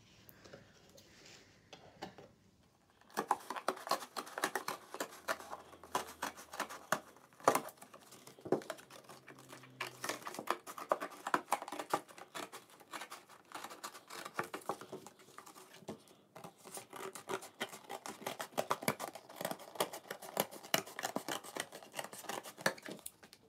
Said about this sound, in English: cut off one of the large faces of the box